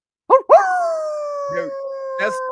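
A person imitates a dog howling like a wolf, giving a couple of short yelps followed by a long, loud, sustained wavering howl, with brief vocal bits layered over it.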